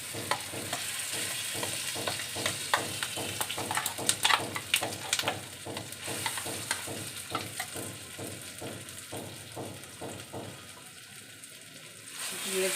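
A pea kachori filling mixture with a little asafoetida is stirred and fried in a pan, giving a steady close sizzle with rapid repeated scraping strokes of a spoon throughout.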